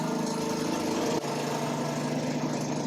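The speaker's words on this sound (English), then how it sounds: "So if you hear like snow plowers and shit, just know it's in the background." Snow plow engine running steadily outside during a New York City snowstorm, a constant droning hum with a slight dip partway through, even and unbroken with no voices.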